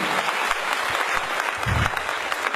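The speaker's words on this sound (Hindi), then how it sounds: "एक जोरदार तालियों से स्वागत मिस्टर कुमार कुलविजय जी के लिए" Loud, sustained applause from a large audience at a Vestige business gathering, dense continuous clapping filling the room from start to finish with no pauses.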